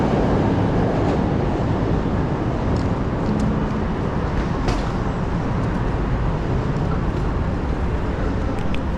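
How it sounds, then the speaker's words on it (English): A Chicago Green Line elevated train runs near Cermak-McCormick Place, a dense steady rumble of wheels and carriage noise with occasional sharp squeals and rattles that continues unbroken until it cuts off. "This is a Green Line train to 63rd and Ashland."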